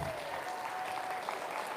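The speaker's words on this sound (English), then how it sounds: "Let's give all these intermediates a big round of applause." A crowd at an Archuleta County 4-H show applauds the intermediate showmen, a faint, even wash of distant clapping under a low hum.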